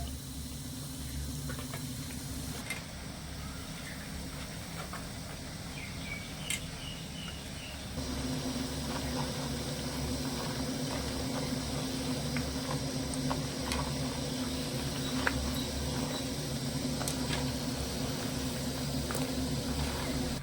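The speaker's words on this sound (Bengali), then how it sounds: "এবার আমি মিষ্টিগুলো মিডিয়াম আছে ভেজে নেব একটু মুচমুচো করে" Madhukuli sweets fry in oil over medium heat with a soft, steady bubbling sizzle heard close but faint, growing slightly fuller partway through.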